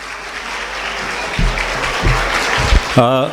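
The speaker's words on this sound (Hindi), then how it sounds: "एक बार ज़ोरदार तालियां हम टीसा और संजय कालरा जी के लिए बजाएंगे।" Audience applause at the curtain-raiser ceremony of a school olympics, a steady broadband patter of many hands, with a few louder voice-like bursts and shouts rising near the end.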